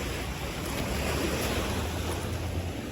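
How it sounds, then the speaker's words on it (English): Big ocean waves roll and break continuously on a Caribbean shore off Saint Thomas in the US Virgin Islands, a steady loud wash of surf blended with gusting wind noise on the microphone. "waves are pretty big"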